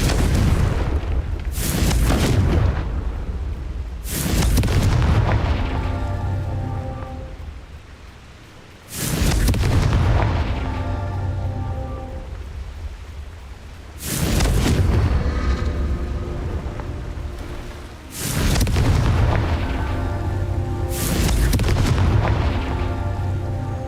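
Blasting-spell explosions in the Hogwarts Legacy video game inside a mine, repeated heavy booming blasts every few seconds with rumbling tails, loud and close, no talking.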